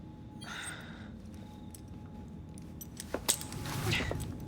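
Keys jangle briefly as they are handed over in the game Assassin's Creed Syndicate, a short metallic rattle near the end rising over low background noise.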